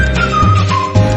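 Pressure cooker whistling on the stove while mutton curry cooks, giving a loud, steady, hissing whistle with a wavering tone over a broad steam roar, close up with no talking.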